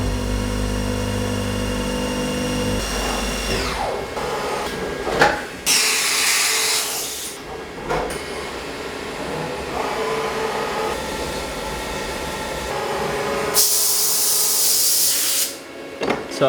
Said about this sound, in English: the machine's set up for the next machined part, which is the cam